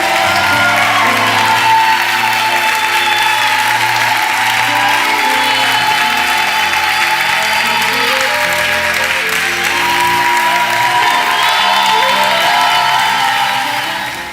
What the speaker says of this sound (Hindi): प्रभु यीशु को सबसे उत्तम तालियों का अर्पण करें